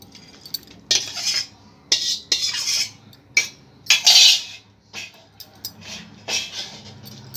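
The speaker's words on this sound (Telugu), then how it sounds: "బాయిల్ చేసుకున్న నూడిల్స్ ఇందులో ట్రాన్స్ఫర్ చేసుకుంటున్నాను." Boiled noodles are transferred into a bowl and mixed with a utensil, giving irregular metallic scrapes and clinks in short bursts, close and fairly loud, with quiet pauses between.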